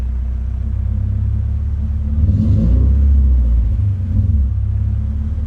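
A Volvo 240 engine idles with a deep, loud, steady rumble, swelling briefly in the middle as if blipped, then settling back. The engine runs alone with no voices.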